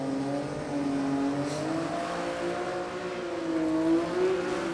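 An old-school Holden six-cylinder red motor drag car idles and gently revs at a no-prep drag racing event at Warwick Dragway, Australia, a steady droning hum with slow rises in pitch, moderately close.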